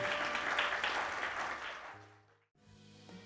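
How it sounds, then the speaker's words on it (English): Church congregation clapping in praise, a broad sustained round of hands that fades out, followed by a short gap and quiet organ-like tones. "let's give God a hand clap of praise"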